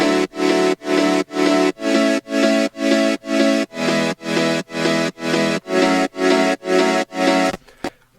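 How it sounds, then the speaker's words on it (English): Sidechained pianos and supersaws play syncopated progressive pop drop chords in a steady pumping rhythm, each stab swelling and ducking about fourteen times at a loud, even level before a brief quiet tail. "we have a combination of pianos and supersaws, just playing like a syncopated and sidechain pattern"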